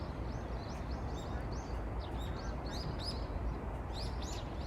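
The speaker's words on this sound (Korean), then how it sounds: "새소리가 더해진 풍경은 이전과는 다릅니다." Birdsong in a park: several small birds chirp and trill repeatedly at a distance over a steady, noisy outdoor ambience.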